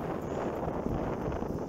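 Strong wind buffets an outdoor microphone in a steady, loud, broadband roar for the whole moment, the gusts blowing at roughly 30 to 35 km/h, with no voices over it.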